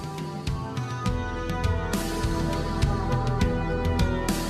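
A progressive metal track plays steadily at full volume, with dense guitar and drums throughout and no voices over it.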